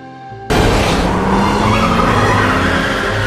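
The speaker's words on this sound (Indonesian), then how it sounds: "Dia mencoba kabur dengan menaiki mobil dan keluar." A car speeds away in a film chase scene, the loud engine roar bursting in suddenly and holding steady with tire noise until it cuts off.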